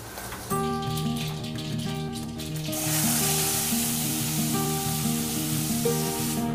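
Wheat pods sizzle in hot tempering oil in a kadhai, a steady close frying hiss that swells after the first half second and grows brighter, heard beneath sustained tonal background music.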